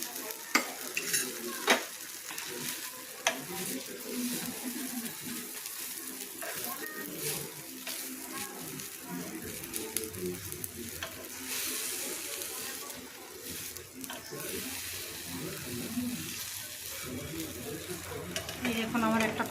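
Palm-pulp patishapta, a crepe filled with khoa kheer, frying in a little oil and ghee in a pan, with continuous sizzling and stirring scrapes and a voice speaking over it at times.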